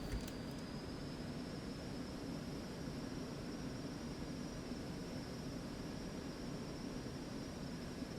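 Twin jet engines of a Cessna Citation Mustang at takeoff power in X-Plane 11: a constant broad roar with a thin high whine, steady and unbroken throughout.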